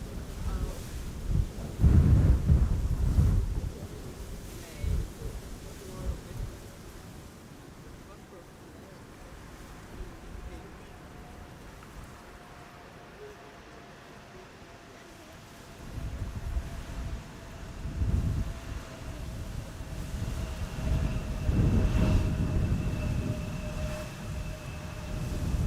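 A KLM Embraer 175 airliner lands in a crosswind at Amsterdam Schiphol with a deep, rumbling roar that swells loudly, eases to a quieter drone midway, then surges again.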